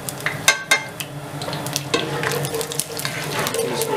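Cumin seeds frying in hot ghee for a Pakistani-style chickpea gravy, a steady close sizzle broken by a few sharp clinks and scrapes of a spoon against the pot, with no talking.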